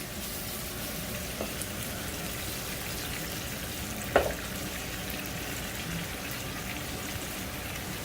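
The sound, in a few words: lobster frying in a pan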